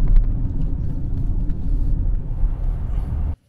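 A Zeekr 001 electric car drives along, giving a steady low rumble of road and tyre noise close to the microphone that cuts off abruptly near the end.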